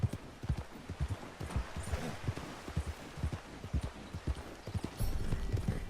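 Rhythmic clip-clop of horse hooves at a steady trot in Red Dead Redemption 2, fairly close, with a brief swell of background noise near the end.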